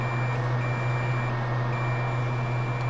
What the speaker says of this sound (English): We're checking continuity from this cap to this resistor.